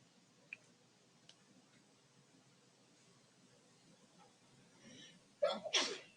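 A single sharp sneeze bursts out near the end, loud and close after a quiet stretch with faint ticks.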